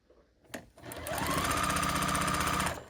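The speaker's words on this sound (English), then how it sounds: "So let's get started sewing these together." After a couple of soft handling clicks, a sewing machine starts up and runs steadily, joining quilt block pieces into rows with a close, fast rhythmic stitching hum that keeps going to the end.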